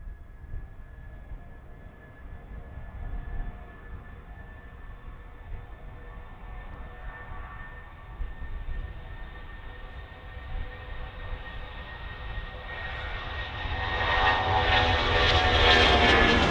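A Boeing 757 jet airliner at Manchester Airport roars steadily with a whining engine tone, then swells into a loud, broad blast as it passes close by near the end.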